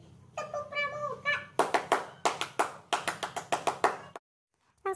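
Group doing the rhythmic Indonesian scout clap (tepuk pramuka), a voice calling out first, then sharp hand claps in quick patterned bursts before stopping abruptly, close and clear.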